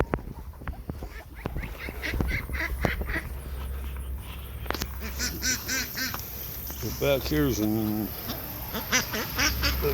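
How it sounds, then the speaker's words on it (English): A brooding duck quacks repeatedly and loudly up close beside its nest in the second half, after a stretch of outdoor background noise and brief speech. "nest that one of the ducks has brooded on. You can hear her."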